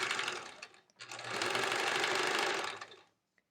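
A sewing machine stitches quilt blocks for a Splendid Sampler quilt, running in two close bursts, a short run then a longer steady whir of about two seconds before stopping.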